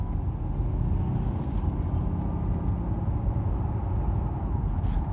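Mercedes car engine and transmission accelerating through a shift into second gear, a steady mid-low drone with road noise inside the cabin, continuous and fairly loud with no voices.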